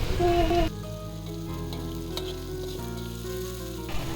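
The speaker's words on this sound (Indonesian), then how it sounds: "Kita gongso atau kita tumis hingga layu dan harum." Sliced shallots and garlic sizzle in hot oil in a wok, a bright crackling hiss after a brief opening clatter, with background music playing throughout.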